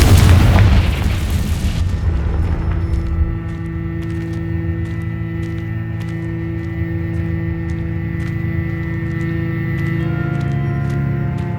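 A Confringo fire spell explodes in the Hogwarts Legacy video game, one loud, close boom with a burst of crackling that fades over a few seconds into a sustained, rumbling game soundtrack.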